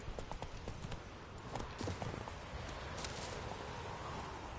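The horse Roach in The Witcher 3 galloping, a quick rhythmic clip-clop of hooves over a constant low rumble of outdoor ambience, fairly faint and steady throughout.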